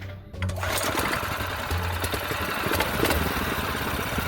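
A small engine of about 0.6 liters fitted with a choke runs up close, giving a rapid buzzing, rattling drone that holds steady after starting, with no talking over it.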